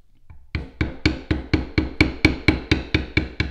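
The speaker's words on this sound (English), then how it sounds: "you can almost hear that it's so dry that the tool doesn't even hardly want to make an impression" A metal bevel tool struck repeatedly on completely dry leather, a steady run of about thirteen sharp, close taps with no talk over them.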